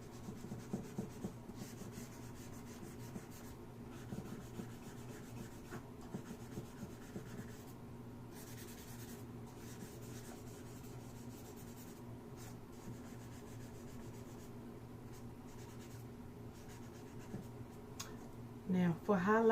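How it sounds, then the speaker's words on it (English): A pencil still-life drawing is shaded and blended with a tissue, giving faint, close, steady rubbing and scratchy strokes that carry on almost without pause. "for shading or blending, you can use your fingers, pinky finger to make it softer, or you can use the Titilian stump or"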